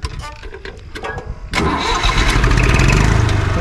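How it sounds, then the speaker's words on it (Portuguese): A restored 1964 Massey Ferguson 50 tractor cranks with a rapid choppy rhythm for about a second and a half, then its engine catches and settles into a loud, rumbling, steady idle close by. "Vamos ligar essa maquininha aqui."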